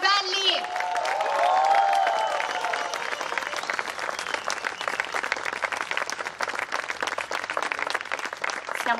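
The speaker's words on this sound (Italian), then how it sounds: "grandissimo applauso all'orchestra, al sax tenore solista Franco Carvelli." An audience gives steady, dense applause for a philharmonic orchestra and its tenor sax soloist after a piece in a concert, with a brief cheer near the start.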